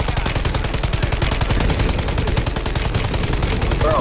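Rapid automatic gunfire in the video game Warzone 3, a dense, steady stream of sharp shots rattling without pause for the whole stretch, loud and close.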